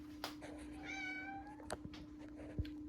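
A house cat gives one short, faint meow in a quiet room during work on replacing a Samsung microwave, with light clicks and a steady low hum behind it.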